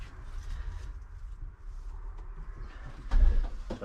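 Racing pigeons coo softly inside a breeding loft, low murmuring calls over a quiet background, with a brief knock or shuffle near the end.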